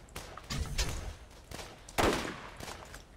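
Sniper rifle fire in co-op Borderlands, several distinct gunshots spaced about half a second apart, with one louder booming shot near the middle, over quiet game ambience.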